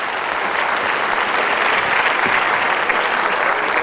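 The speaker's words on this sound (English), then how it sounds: "Round of applause." Steady round of applause from a live audience at a hypnotism demonstration, dense clapping holding at an even, fairly loud level for a few seconds without a break.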